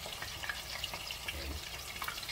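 Battered chicken wings frying in oil, a steady crackling hiss with scattered pops, close and moderate in level, with a voice talking briefly.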